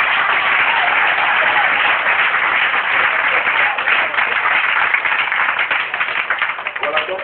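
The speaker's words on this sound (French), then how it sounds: "On acclame très fort le Seigneur." A church congregation applauds and cheers loudly in a sustained, dense roar of clapping and voices that holds steady throughout.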